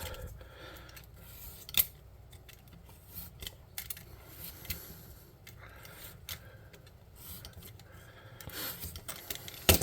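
Scissors snipping through wet, glue-covered paper with quiet, irregular crisp cuts and small clicks over a faint background, no talking.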